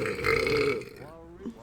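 A single loud, drawn-out burp from a young woman, voiced and croaking for most of a second, followed by brief talking and a short laugh-like sound.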